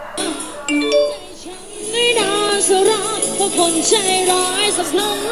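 Upbeat Thai parade-truck style music playing from a small E-3052 Bluetooth speaker, with a melodic lead line over a thumping beat, moderately loud and slightly thin.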